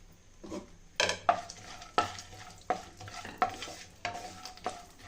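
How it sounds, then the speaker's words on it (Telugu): Almonds and raisins roast in hot ghee while a spoon stirs them in the pan, giving a quiet sizzle broken by a series of regular scraping stirs and light metallic clinks, close and with no voices. "నెయ్యి వేడి అయిన తర్వాత ఈ రెండింటిని వేసి రోస్ట్ చేసుకోవాలండి"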